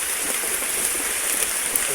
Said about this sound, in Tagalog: Ito, umuulan pa.